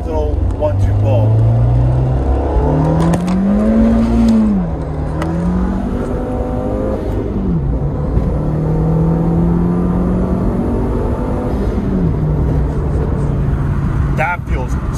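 An Audi fitted with stage 2 engine mounts revs hard through a first-to-second gear acceleration pull, the engine note climbing and dropping with the shift, loud and close from inside the car, with a voice talking over it.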